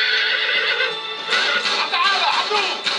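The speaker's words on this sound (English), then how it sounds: "I'm on a horse." A horse in the video game Uncharted 3 whinnies loudly and close, with a drawn-out neigh running through most of the span alongside faint in-game ambience.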